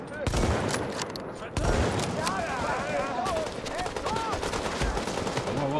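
Gunfire in The Division rattles in repeated bursts with sharp, heavy shots, loud and close, while voices speak over the shooting.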